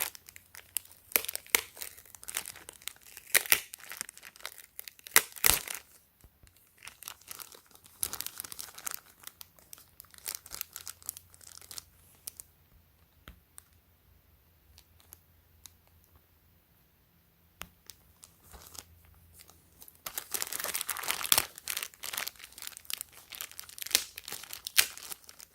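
Clear tape crinkling and crackling as it is handled and peeled on the packaging of a Cordura fabric Supreme utility pouch, close and fairly loud in irregular bursts, with a quieter lull in the middle and no talking.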